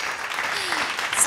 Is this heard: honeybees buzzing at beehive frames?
no